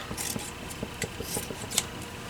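Scissors snip through fabric in a quick series of soft crunchy cuts, close by, with faint rustling of material between them.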